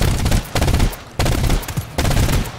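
Three heavy shotgun blasts in GTFO, loud and close, each a sharp boom with a decaying tail, spaced roughly evenly about half a second to a second apart.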